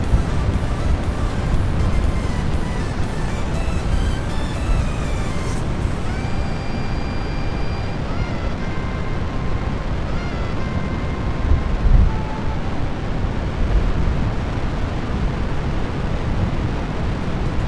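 Rocket engine launch in Kerbal Space Program, a dense, continuous roar of broadband rumble that holds steady throughout, with faint tonal game sounds drifting in over it.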